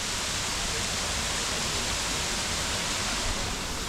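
Sticky Waterfall near Chiang Mai, Thailand, a dense, steady rush of falling water that fills the whole clip at an even level, close by, with no voices.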